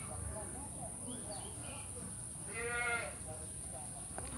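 A goat bleats once in a short, harmonic call from a nursing mother or kid, rising above a steady hiss and low rumble of background noise.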